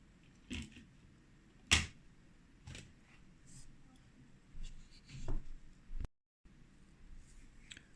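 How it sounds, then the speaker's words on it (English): A screwdriver blade gently levers up the battery of a Ricoh Theta V camera, giving sparse faint scrapes and small sharp plastic clicks and creaks, one distinct louder snap among quiet pauses. "I use the screwdriver blade to lever it up from the button side very gently"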